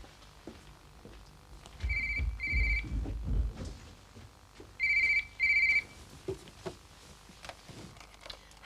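A telephone rings indoors in two pairs of classic double trills, clear and moderately loud, with footsteps and soft movement noise around them.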